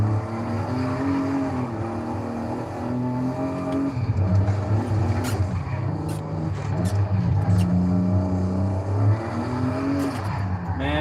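A turbocharged European car accelerates at a Friday night cruise, its engine rising in pitch through the gears and swelling louder midway, with faint chatter around it.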